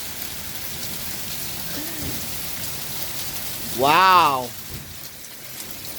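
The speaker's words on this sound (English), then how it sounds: "Wow, it's really coming down." Heavy rain with hail pounding steadily on surfaces during a storm, a dense continuous hiss, with a person's brief exclaiming voice rising above it partway through.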